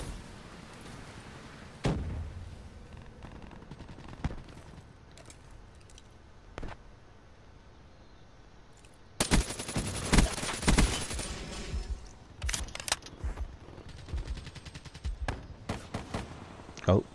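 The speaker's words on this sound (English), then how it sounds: "Someone is shooting with me." Gunfire in the video game Black Ops 3 comes as a few isolated shots early on, then dense bursts of rapid automatic fire in the second half, mixed with keyboard clatter and occasional talk.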